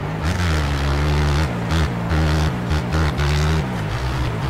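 A tuned Biz 125 motorcycle in MX Bikes, running only an exhaust pipe, holds a loud, steady engine drone in a high gear, with brief dips and surges in revs as it pulls along.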